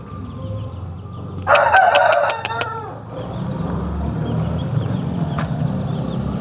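A rooster crows once, loud and close, a strained rising call that fades into quiet background noise.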